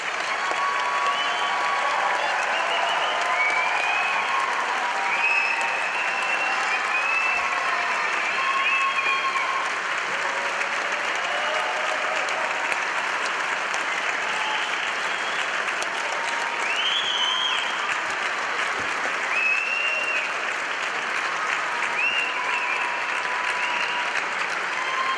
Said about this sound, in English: let's give this amazing group of people one last huge round of applause